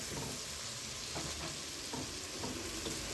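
Chicken fries in a pan as ground coriander, cumin and black pepper are added, giving a steady close sizzle with a few brief stirring scrapes and no voices.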